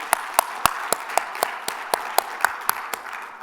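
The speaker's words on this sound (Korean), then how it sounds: "하나님께 영광의 박수 올려드립니다" A church congregation claps together in a steady, rhythmic beat, sharp in-unison claps about four per second, loud and close, tapering slightly toward the end.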